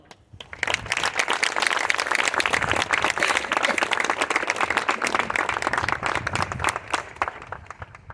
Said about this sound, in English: please give the Ford family a round of applause